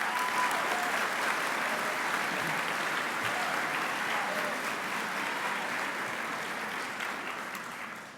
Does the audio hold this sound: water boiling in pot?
no